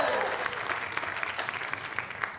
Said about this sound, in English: give me a cheer if you want a sci-fi movie